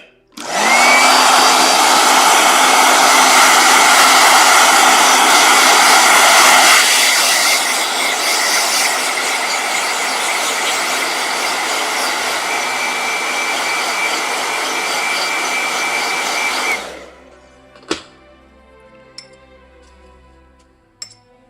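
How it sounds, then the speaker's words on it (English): A hair blow dryer runs loud and steady close by for about seventeen seconds, its pitch shifting partway through, then cuts off, followed by a few light clinks. "Okay, I got a blow dryer."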